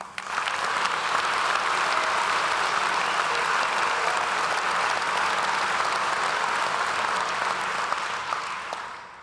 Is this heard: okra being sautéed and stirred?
no